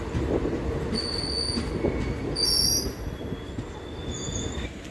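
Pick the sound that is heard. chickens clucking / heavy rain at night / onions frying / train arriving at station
train arriving at station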